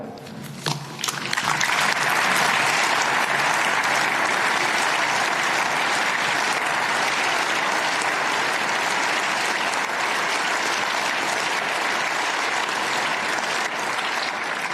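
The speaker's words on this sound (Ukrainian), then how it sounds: "І ці оплески, точно не мені ці оплески." Sustained, loud applause fills the chamber of the European Parliament during a special plenary session, beginning with a few scattered claps and swelling into a dense, steady ovation that holds for the rest of the span.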